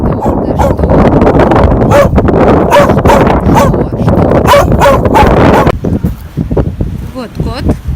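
A dog whines and howls outdoors on an Icelandic farm in squally wind, its wavering cries rising near the end over steady wind rumble and voices.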